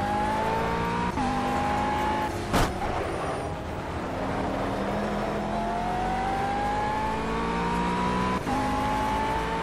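A McLaren 12C GT3 race car laps the Nordschleife in Project Cars, its engine droning loud and close with rising revs, sharp gear-change dips and a brief tire squeal or bump partway through.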